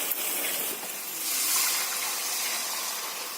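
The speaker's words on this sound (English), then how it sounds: "Water is being added." Steady rushing of water being poured into a pan of upma with carrot and beans, a continuous broadband hiss with a slight swell midway, no voices.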